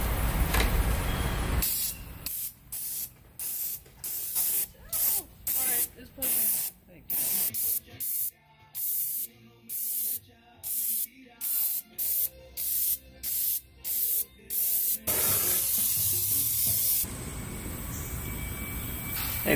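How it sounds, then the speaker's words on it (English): Airbrush sprays paint onto a foam tombstone in a long run of short, regular hissing bursts with brief gaps between them, close and fairly loud, with steadier hiss at the start and end. "I like about the airbrush, it will get in all the nooks and crannies of the tombstone"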